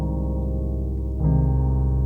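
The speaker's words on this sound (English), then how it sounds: "So if we listen to these opening pianos" Low, dark piano chords sustain steadily, with a new chord entering about halfway through; no voices.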